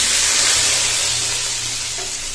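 A burst of loud hissing sizzle as a hot oil and red chili tempering hits chana dal, gradually easing over a couple of seconds.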